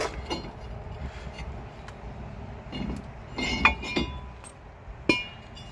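A brake rotor coming off the front hub of a 2002 GMC Sierra 1500 HD gives a few sparse metallic clinks and knocks over a low background hum, close and intermittent, with no talk.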